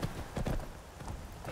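A horse's hooves clip-clop in the video game Skyrim, a few soft rhythmic steps at low volume over a faint background hum.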